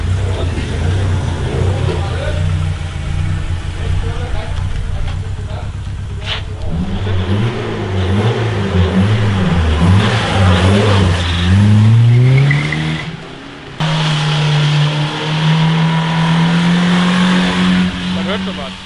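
A car engine running on ketchup in place of motor oil idles and revs loudly, its pitch climbing and wavering before settling into a steady drone with a rough knocking edge. Voices talk over it in places.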